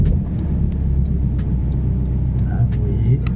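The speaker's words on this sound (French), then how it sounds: "Je démarre la voiture." A BMW 1 Series with a handbrake warning light on sits running, its engine holding a steady low idle rumble close by, with faint ticking clicks scattered over the drone.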